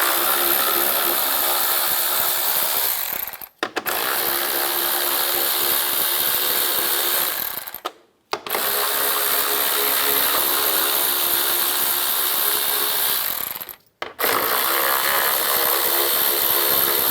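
A socket ratchet works screws loose from a front panel on a 2011-2019 Ford Explorer, giving a close, steady stream of clicking in three long runs separated by brief pauses, with no talking.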